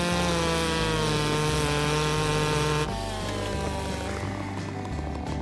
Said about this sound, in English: put the chainsaw down like that and run up the branch and take them all off